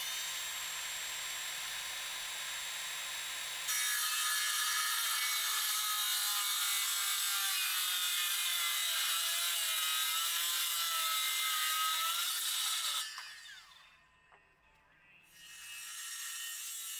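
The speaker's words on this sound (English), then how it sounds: "After I traced the cut mark, I used my circular saw to cut the corner off." A circular saw cuts the corner off a lumber post, giving a loud, steady whine that runs for about nine seconds, then drops away before briefly picking up again.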